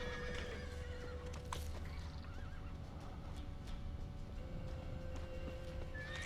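A horse in The Witcher 3: The Wild Hunt next-gen edition whinnies and shifts its hooves against a constant game background hum, the neigh faint and mixed in rather than standing out.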